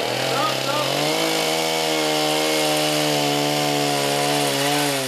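A chainsaw cuts timber roof rafters on site for a hand-built roof truss, its engine droning steadily and loud throughout with shifting pitch as the chain bites into the wood.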